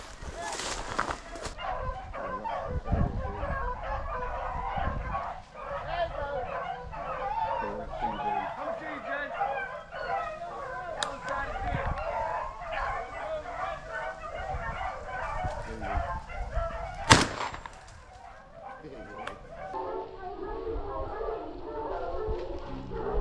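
Hunting dogs bay and yelp in a continuous chorus while chasing a rabbit along a hedgerow outdoors, the cries steady and moderately distant, with occasional louder bursts.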